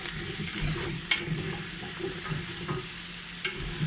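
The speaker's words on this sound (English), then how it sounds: "And then just give that a good stir." Oil, nutmeg and winter vegetables for a creamy pumpkin soup are stirred in a pot, giving a soft continuous sizzle with light scraping and a couple of faint clinks, and no voices.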